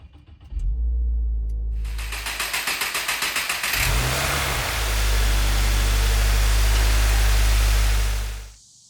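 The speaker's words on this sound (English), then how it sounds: "When you let go of the gas pedal, that's when it'll start up." A Subaru WRX tS starts up after an oil change. A rapid, pulsing crank gives way to a loud, close roar that holds steady and then cuts off.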